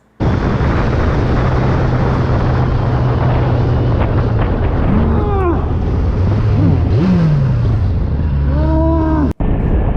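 A motorcycle accelerates through a curve, loud and close, its engine note climbing and falling in repeated rising revs over heavy wind rush, with a brief cut near the end.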